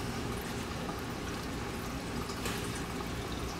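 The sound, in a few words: E85 fuel pouring out of car tank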